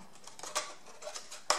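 Scissors cutting paper for a scrapbook notepad box, a quick series of soft close snips and rustles ending with one crisper cut, quiet and alone.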